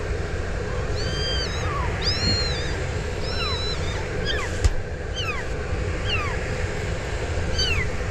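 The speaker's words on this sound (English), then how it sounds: "we got ourselves some kittens" Several small kittens mew in thin, high repeated cries beside a grain dryer auger on a corn farm, a steady series of short calls over a constant low mechanical hum.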